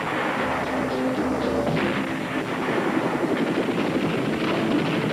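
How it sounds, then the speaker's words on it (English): Gunfire and explosions from the Miami Vice Action Spectacular stunt show at Universal Studios, a dense, continuous roar of blasts and rifle fire throughout a short commercial. "Sticks of TNT, grenades, assault rifles,"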